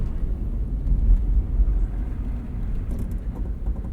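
Lexus GX 460 SUV driving through snow on Cooper Discoverer AT3 4S all-terrain tires, a continuous low rumble of engine and tire noise heard from inside, steady and moderately loud.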